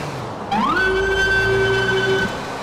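Police car siren in the video game GTA 4 rises into a loud, steady electronic wail that holds close and unbroken for about two seconds, then drops away, with no talking.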